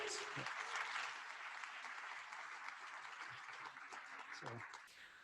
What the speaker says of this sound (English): That deserves a huge round of applause